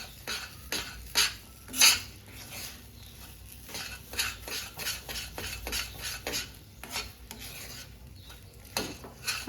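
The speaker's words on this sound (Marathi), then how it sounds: "छान मिक्स करायचं" A spoon stirs cardamom powder into a soft sweet dish in a pan, giving quiet repeated scraping and soft clinks of metal, with a few sharper taps against the vessel.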